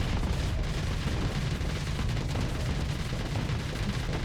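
Ships in the space combat game Starsector trade heavy gunfire, a dense, continuous barrage of deep booming shots and rumbling impacts with no pauses.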